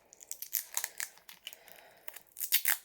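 A small piece of adhesive tape is pulled and torn, several quick sharp ripping and crinkling bursts, close and fairly quiet, with short pauses between them.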